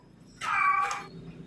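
A single cat meow, clear and fairly close, rising then falling over about half a second against a quiet room.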